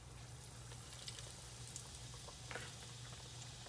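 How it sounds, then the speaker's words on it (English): Catfish fries in hot oil at about 350 degrees, giving a faint, steady sizzle with a low hum under it and no voices. "we're going to go ahead now and add our catfish."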